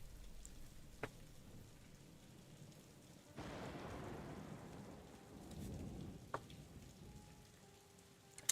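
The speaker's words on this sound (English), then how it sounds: "Oh, it's raining." Rain and thunder in a souls-like video game, faint steady rainfall with a low rolling rumble of thunder swelling midway, plus a couple of sharp clicks, all quiet and distant.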